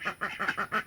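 Rapid series of five short, soft, raspy quacks from a male duck, evenly spaced and close, with no other sounds.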